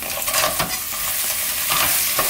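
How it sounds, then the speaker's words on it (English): Shrimp sizzling in a hot pan with golden fried garlic for caramelized prawns, a bright continuous frying hiss broken by stirring scrapes, close and steady. "So now after our garlic is slightly golden, we're going to add in our shrimp."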